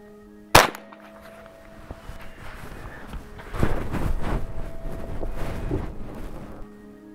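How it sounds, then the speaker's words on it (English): A single sharp .22 rifle shot cracks once, loud and close, aimed into a stack of 25 T-shirts outdoors, then fades to quiet before footsteps and shuffling movement follow. "All right, 22 rifle at 25 shirts."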